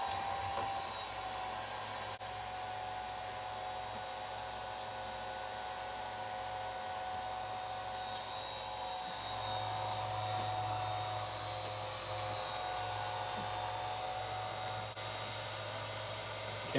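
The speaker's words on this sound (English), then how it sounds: "So we're going to use our blow dryer again." A blow dryer runs steadily, blowing air over a car headlight to check for air leaks, with a continuous whooshing hum and a slight change in pitch partway through.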